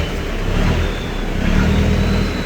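The turbo engine of a first-generation three-door Mitsubishi Pajero revs close by, a steady mid-range roar that swells twice in broad surges, heard alone with no voices.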